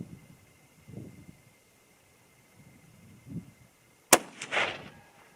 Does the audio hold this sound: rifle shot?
yes